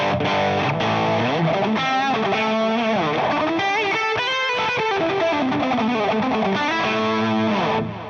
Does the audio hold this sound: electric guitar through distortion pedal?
yes